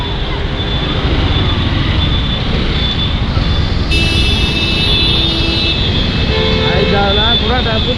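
Dense road traffic in a jam with holiday crowds, a steady loud broadband roar of idling and creeping engines throughout, with a passing horn or vehicle tone in the middle and faint voices underneath.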